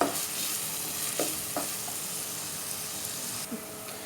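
Sliced onions frying in half a cup of oil in a pot for a handi kabab dish, a steady close sizzle with occasional stirring scrapes and clinks, no talking.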